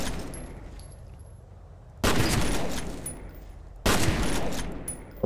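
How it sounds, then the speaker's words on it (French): Heavy bursts of gunfire as people shoot, two loud sustained volleys separated by a quieter fading stretch, close and dense with echoing tails. "On me tire dessus !"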